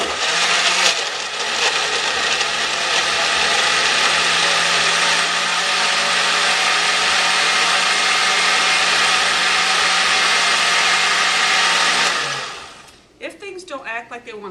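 A kitchen blender runs loud and steady, whirring through frozen strawberries and bananas for a smoothie, then stops abruptly near the end.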